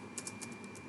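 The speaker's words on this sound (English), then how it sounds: "So just let's start typing enable" Quick, irregular keystrokes on a computer keyboard as a Windows Server PowerShell command is typed, several close clicks in about a second over a quiet room hum.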